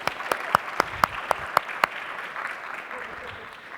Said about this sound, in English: How about a big round of applause for Jordana Highbush?